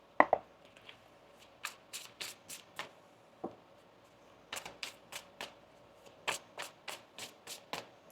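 Tarot cards being shuffled by hand, a series of crisp riffling bursts in uneven clusters, close and quiet with pauses between.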